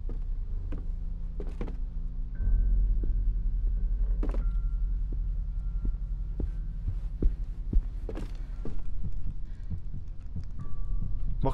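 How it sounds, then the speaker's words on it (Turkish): A heartbeat in the Song of Horror video game, soft steady thumps repeating at a slow even pace under a low constant hum, with occasional sharper clicks and faint tones. "Bak kalp sesi geliyor, kalp sesi."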